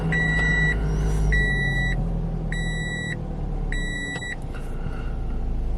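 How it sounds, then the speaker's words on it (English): A 2016 Toyota RAV4 with 115,000 miles idling, a steady low engine hum under a repeating electronic chime that beats in four regular pulses, with no talk. "let me show you how this car is running too, so that way if you want to take a listen to it as well"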